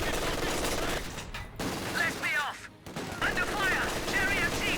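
Vickers mounted gun on a universal carrier in a World War II video game, firing dense, sustained bursts of gunfire with short breaks, heard close and loud under a commentator's voice.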